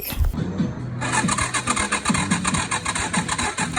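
A Yamaha Sniper 155 motorcycle engine with a faulty ECU cranks over and over with a rapid, sputtering rhythm but never catches, close and loud.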